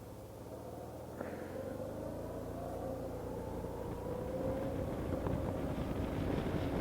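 Steady rush of wind and a low engine drone from a 2009 Honda DN-01 motorcycle ridden around a block with some twisty corners, the wind noise building slightly as it picks up speed, with no talking.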